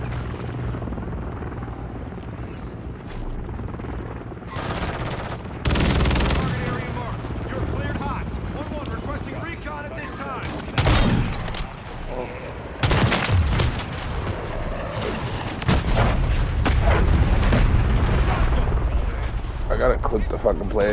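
Gunfire in a multiplayer shooter video game, with repeated bursts and single shots over a constant loud helicopter-like drone. The shots come in clusters, and players talk during the gameplay.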